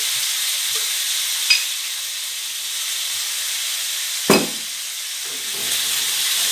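Onions browning in olive oil in a pan, a soft even hiss of frying with two sharp metallic knocks and a few light stirring scrapes, no one speaking.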